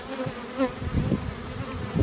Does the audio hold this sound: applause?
no